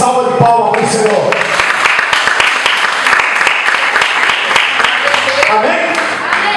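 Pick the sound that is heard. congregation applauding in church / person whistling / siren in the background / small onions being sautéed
congregation applauding in church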